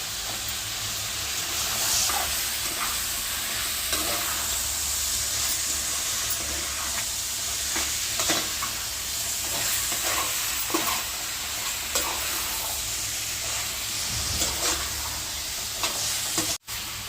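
Chicken and egg curry sizzles in a hot pan while a spoon scrapes and stirs it in repeated strokes, close and steady, with no talking.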